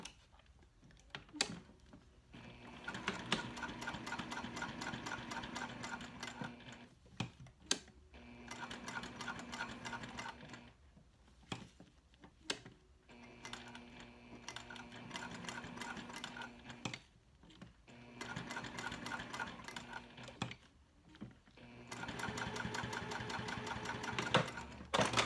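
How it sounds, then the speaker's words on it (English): A sewing machine with a Teflon foot stitches vinyl using all-purpose thread, a size 14 Micro-tex needle and a 3.5 stitch length, running in several short bursts of rapid mechanical clatter separated by brief pauses, close and moderately quiet. "I have my Teflon foot on like I always do for when I'm sewing with cork"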